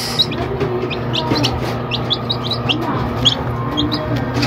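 Newly hatched chicks in a DIY incubator peep in rapid, high, close chirps over a steady low mechanical hum, with no talking.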